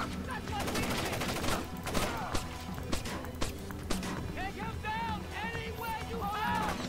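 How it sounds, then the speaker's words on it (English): Rapid bursts of gunfire in Splinter Cell Chaos Theory at a chemical plant, with sharp repeated shots and scattered impacts mixed with game effects and a voice talking over the action. "let's open fire"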